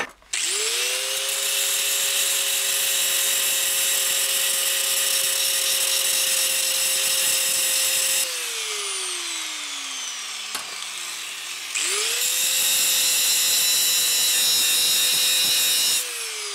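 Angle grinder working welded sheet metal seam, a loud high whine that spins up, grinds steadily, winds down with a falling pitch, then spins up and grinds again, close by.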